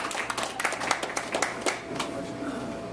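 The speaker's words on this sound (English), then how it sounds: "you can applaud" An audience claps at a Tea Party gathering of the Valley Forge Patriots in King of Prussia, a scattering of sharp hand claps rising in a short burst, then thinning out alongside a faint voice.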